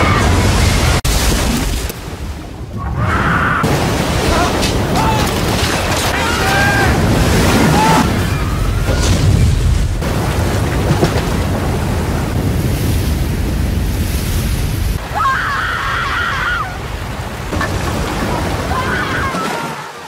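Tsunami surge on a Thai coastline in 2004, a loud continuous roar of crashing water and wind-buffeted rush that swells and churns throughout, with a brief lull near the start.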